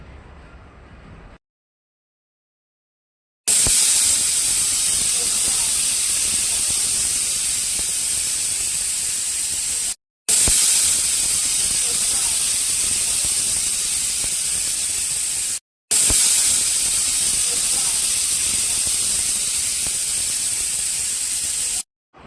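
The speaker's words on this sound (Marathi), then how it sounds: "पाणी उकळल्यानंतर कुकरला टोपण लावून तीन शिट्ट्या होऊ द्यावेत" A pressure cooker cooking jeera rice vents a loud, sustained hissing whistle of steam, cut into three long bursts by brief silences after a faint start.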